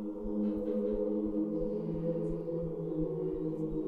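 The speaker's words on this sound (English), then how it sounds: "This is the strings" Sustained string pad from an amapiano production, following the chord progression, with smooth held chords layered in warm, stacked tones. A soft, regular low beat pulses underneath at a moderate level throughout, and no one speaks.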